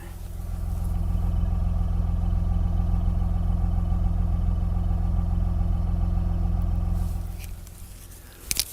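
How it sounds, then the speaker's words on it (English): A 2005 BMW 325Ci convertible's exhaust idles quietly in a low, steady rumble that holds even for several seconds, then tapers off near the end. "get a listen to the exhaust pipes sing. Very quiet, but here you'll get the sound of it."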